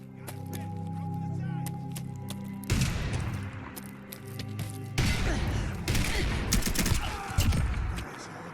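AK-105 assault rifle fire in Fallout 4, chambered in 7.62x39, with rapid bursts of sharp reports clustered in several volleys over a steady low game hum, loud and close.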